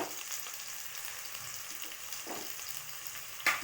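Onion and mustard seeds fry in a pan with a steady, hissing sizzle, fairly quiet and close, broken by a few faint stirring scrapes and one sharper clink near the end, with no voices.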